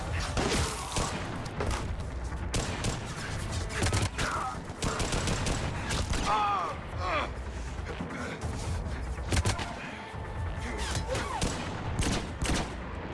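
Rapid bursts of assault rifle fire crackle through a Mass Effect 3 firefight, dense and continuous with heavy thuds and impacts mixed in, and a voice talks over the shooting.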